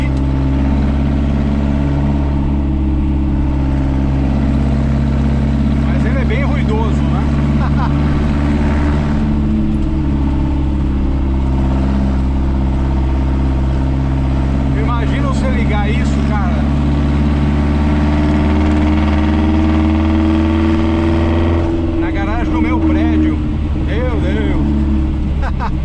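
Inch Pincher tribute car's engine pulls hard in third gear, a loud, sustained drone with rising harmonics heard from inside the car, someone speaking over it throughout.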